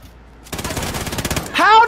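A rapid burst of light machine gun fire rattles in a first-person shooter game, loud and continuous for about a second, followed by a louder tonal sound effect.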